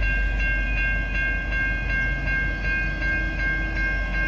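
A V/Line N class diesel locomotive hauling a passenger train rumbles past steadily at South Geelong, with a rhythmic clickety-clack of wheels over rail joints and a constant tonal whine, loud and close.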